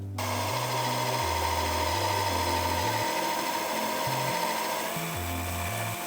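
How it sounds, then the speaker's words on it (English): A Forstner bit bores into a live-edge walnut slab with a steady drill whine and hum, its pitch stepping up and down as the load changes. "use an appropriate sized Forstner bit"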